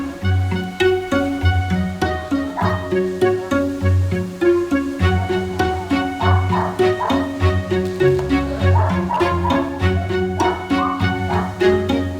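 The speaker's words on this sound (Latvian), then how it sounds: "Parasti jau saka tā, ka šie cīņas suņi ir ļoti agresīvi un ļoti tādi dusmīgi." Fighting dogs bark in a loud, repeated run of deep woofs close by, barks coming in quick clusters with short yips between them.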